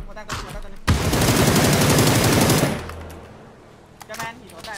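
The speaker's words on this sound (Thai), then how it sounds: "ตามเสียงปืนตามเสียงปืน" Rapid bursts of machine-gun fire in PUBG, loud and sustained for a couple of seconds, then fading into quieter background sounds.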